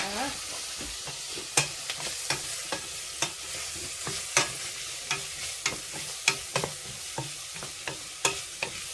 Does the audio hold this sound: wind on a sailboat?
no